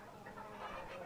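Hens and roosters clucking in a flock during a blizzard, a steady low murmur of soft clucks and shuffling close by, with no voices.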